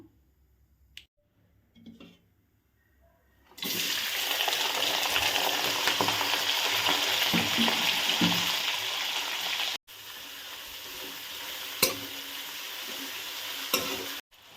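Four medium onions for a crab roast hit hot oil in a pan and set off a loud, steady sizzle that runs continuously after a few quiet clicks, dipping briefly before the frying settles into a slightly softer crackle.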